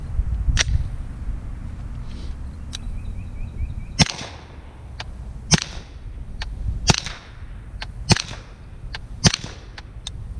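Suppressed 9mm subsonic pistol shots firing Fiocchi ammunition, a series of sharp, fairly quiet snaps at irregular intervals, some tightly paired, over a low rumbling background with no voices.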